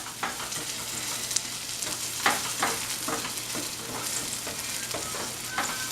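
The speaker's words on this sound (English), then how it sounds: "We're going to cook these onions up here." Onions fry steadily in a skillet for a burger topping, a constant close sizzle broken by a few sharp scraping stirs and clinks, with no one talking.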